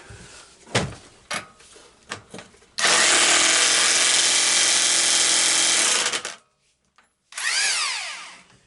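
A Black & Decker power drill tightens a fastener while repowering a 1993 Craftsman. A few knocks and clicks lead into a loud, steady whir lasting several seconds, then a short pause and a second burst that winds up and back down.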